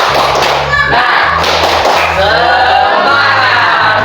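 A school class claps out a rhythmic spirit clap, the group's claps thumping in quick patterned bursts with voices chanting and shouting along, loud and close in a crowded room.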